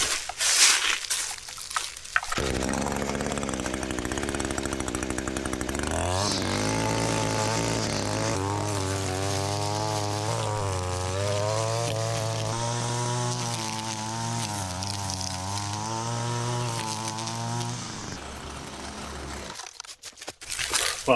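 An Echo SRM-225 string trimmer held at full throttle under heavy load, a loud, steady, buzzing two-stroke whine close by that rises after a brief idle and holds for a long stretch before cutting off.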